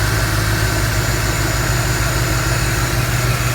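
Car engine idling after a new water pump install, a steady close rhythmic chug with even low pulsing and no talk.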